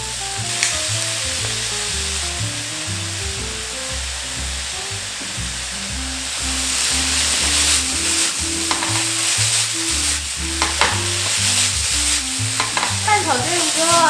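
Potatoes stir-fry over high heat with soy sauce and seasonings: a loud, continuous sizzle under repeated scraping and tossing, with a low hum running throughout and no voices.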